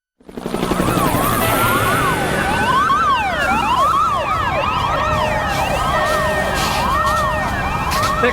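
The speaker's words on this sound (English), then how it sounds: "The sirens." Loud wailing sirens sweep up and down continuously, several overlapping, close and steady throughout.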